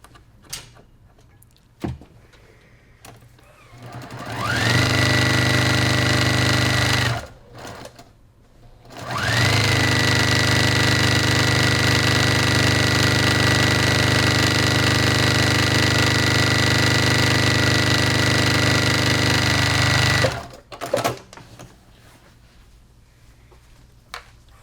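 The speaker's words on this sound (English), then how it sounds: "I'm going to stitch this 1/4 inch seam" A sewing machine stitches a 1/4 inch seam, running in a loud, steady motorized hum with rapid needle chatter, pausing briefly once, then continuing for a long even run before stopping amid handling clicks.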